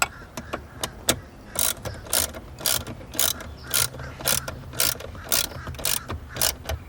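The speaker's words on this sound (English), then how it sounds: "use the socket wrench to get them tight" A socket wrench ratchets repeatedly while tightening bolts during a dashboard trim installation on a 2012-2019 Lexus LS, giving bursts of close, sharp clicking in a steady rhythm with brief pauses between strokes.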